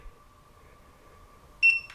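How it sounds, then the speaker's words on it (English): A short electronic beep from Eachine EV100 FPV goggles as the DVR button is pressed: one clear, high-pitched tone near the end, following near silence with a faint steady hum. "you will have to hear 3 beeps"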